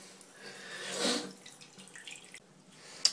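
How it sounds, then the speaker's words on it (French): Tap water runs into a kitchen sink being filled to the overflow drain, a soft steady rushing that swells briefly in the middle, with a small clink at the end. "remplir l'évier jusqu'au système d'évacuation d'eau chaude"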